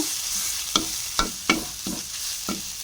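Freshwater snails and greens stir-fry in a hot pan in a rural Isan kitchen, oil sizzling steadily while a utensil scrapes and clacks against the pan in regular strokes, close and clear.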